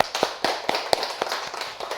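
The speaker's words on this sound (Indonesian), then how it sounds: "tepuk tangan untuk kalian semua." A classroom of students clapping in applause, a run of sharp, fairly close claps at an uneven, scattered rhythm with no talking over it.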